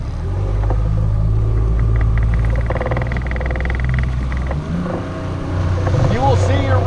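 A fishing boat's motor in slow forward while planer trolling for king mackerel hums low and steady up close, with wind noise and a voice speaking briefly over the engine.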